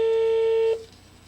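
A steady electronic telephone tone sounds loud and continuous for under a second, then cuts off, leaving faint background hiss.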